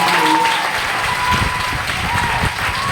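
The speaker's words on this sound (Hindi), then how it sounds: "तो सर के लिए बड़ा जोरदार ताली है।" An audience at a business training event claps loudly and steadily, a dense crowd applause with low thumps mixed in.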